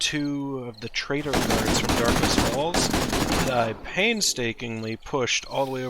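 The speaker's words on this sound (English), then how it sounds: "If you hear random gunshots outside" Rapid bursts of gunfire rattle through the middle in a dense volley, while someone talks before and after, all close and loud, during a horde night in the game 7 Days to Die with the Darkness Falls mod.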